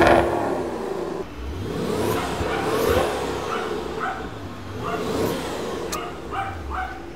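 A used Maserati Quattroporte GTS V8 is started and revved, giving several rising and falling bursts of engine roar up close, with a dog barking now and then between the revs.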